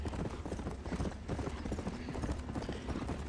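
Horse hooves clip-clop steadily in the Red Dead Redemption Undead Nightmare video game, a close, continuous rhythmic trotting with a faint whinny and some talk underneath.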